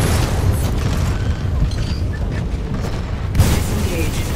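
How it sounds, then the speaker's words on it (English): A splitter rifle fires on full spread in the video game Titanfall amid loud, dense booming battle noise, with a strong burst near the end and in-game voices over the din. "Splitter rifle on full spread."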